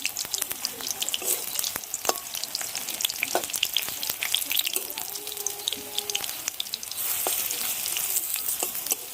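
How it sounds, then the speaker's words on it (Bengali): Small fritters of gram flour batter mixed with freshwater snails frying in hot oil give a loud, close, continuous sizzle with sharp crackles and an occasional clink from the pan. "এর মধ্যে দিয়ে দিচ্ছি মাখা বেসনটা, ছোট্ট ছোট্ট করে দিয়ে দিচ্ছি"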